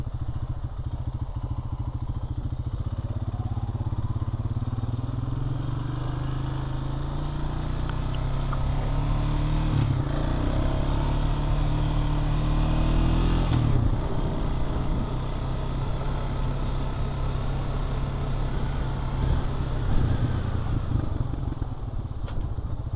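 A Honda Rancher ATV is ridden outdoors, its mid-pitched engine droning steadily throughout with slight rises and falls in revs and light clattering, no talking.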